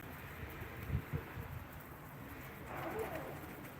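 Pigeons coo at a pigeon auction in Ankara, low soft calls and a few brief thumps close by, with a faint murmur of background activity and rustling throughout.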